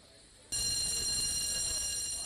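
A fire station alarm bell suddenly starts ringing, a loud continuous metallic clangor that keeps going steadily after a quieter moment.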